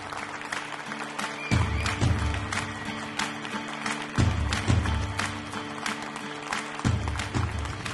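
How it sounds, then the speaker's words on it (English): Audience applause at an award gala, a full, continuous round of clapping with recurring low thumps of music beneath, steady and fairly loud throughout. "Please help me give a huge round of applause in honor of Liza."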